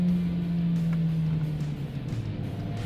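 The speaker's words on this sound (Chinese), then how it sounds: "还是原始的内燃机的这种轰鸣声非常的棒啊" A race car's combustion engine drones steadily on the Sepang circuit while it runs on Goodyear sports tyres, its pitch easing slowly downward over a few seconds amid constant wind and road noise.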